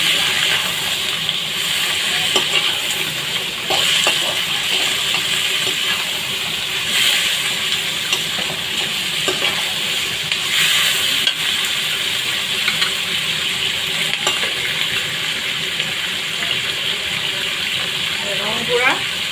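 Broiler chicken meat fries in a hot pan, a constant loud hiss and sizzle running throughout with small crackles and pops.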